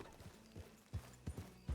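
Horse hooves clip-clop in a slow, uneven walk in Red Dead Redemption 2, four soft thuds close by and faint, with no talking.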